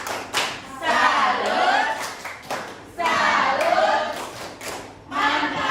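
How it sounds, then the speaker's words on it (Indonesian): Classroom group clapping for a student during a teacher training session, delivered in rhythmic bursts with thumps, while children and a teacher call out short words between the claps. "Oke, tepuk tangan untuk Fitri."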